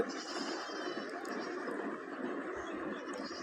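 Goats bleating at a busy goat market in Kerala, several animals calling amid a dense crowd murmur and people talking nearby, continuous and moderately loud.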